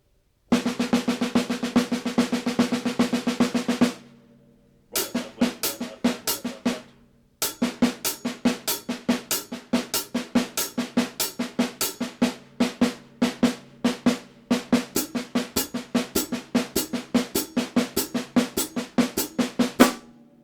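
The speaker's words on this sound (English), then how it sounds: "If I play that on the snare drum, it would sound like this." Snare drum played alone in a steady, fast triplet diddle pattern, crisp repeated strokes in three short bursts with brief gaps between.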